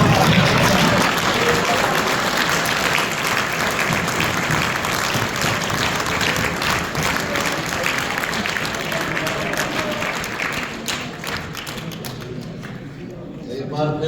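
An audience at a mushaira poetry recital during an Aligarh Muslim University alumni Sir Syed Day gathering claps in loud, dense, sustained applause that gradually thins toward the end, with some voices mixed in.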